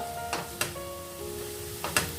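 Onion softening in hot spiced oil tempering with asafoetida and salt for a red amaranth leafy vegetable dish, giving a steady low sizzle with a few stirring scrapes and clinks; no one speaks.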